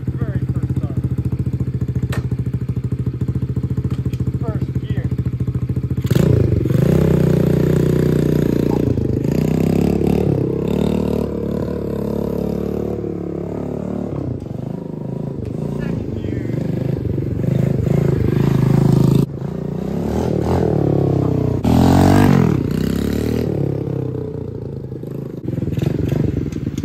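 An XPRO 125cc motorcycle on its first ride in first gear, with a close mid-pitched engine rising and falling through revs alongside some rattling clatter, and a person speaking at times over it.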